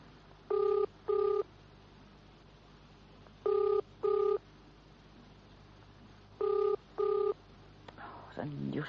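Telephone keypad dialing, a call being placed to a garage, comes as three pairs of crisp, steady touch-tone beeps spaced evenly apart over a quiet background, with a faint rustle at the end.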